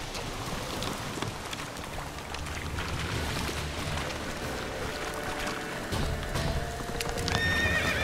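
Roach, the horse in The Witcher 3 video game, gallops with rhythmic hoof clip-clops and gives a whinny, set against an ambient outdoor game soundscape at moderate level.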